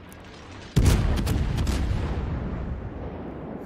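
A naval gun salvo firing high-explosive shells in World of Warships, one sudden loud boom followed by a long rumbling decay and a few sharp cracks, close and without talk.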